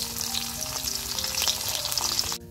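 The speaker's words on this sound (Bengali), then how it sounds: "রসুন, পেঁয়াজ, আদা, জিরা ভালোভাবে ভাজা নিচ্ছি," Garlic, onion, ginger and cumin fry in hot oil in a kadai, giving a loud, dense, continuous sizzle up close that cuts off abruptly near the end.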